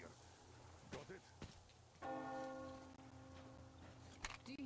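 A single bell strikes in a video game and its tone rings on for a couple of seconds, faint and distant beneath soft ambient noise, with scattered clicks before it.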